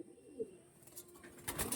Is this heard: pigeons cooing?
yes